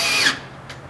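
A Craftsman power drill drives screws into a wood board: one short, loud whirring burst at the start, then a quiet tail with a faint brief buzz.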